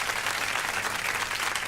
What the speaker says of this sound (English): Another applause.